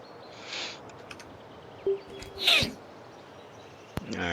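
A single sharp sneeze from a person, fairly close and loud, set against quiet outdoor ambience on a golf course, with a short voiced exclamation just before it and faint rustling around it.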